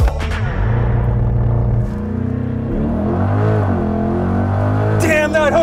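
A 2021 Chevy Corvette C8 convertible with the Z51 package and 6.2 liter V8 pulls hard from launch, its loud engine note climbing steadily through the revs, dipping briefly at a shift and rising again, close and continuous.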